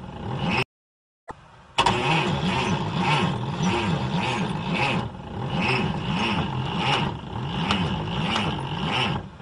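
A cartoon car engine struggling to start sputters and revs in repeated rising-and-falling surges after a brief silent gap, loud and close, with no voices.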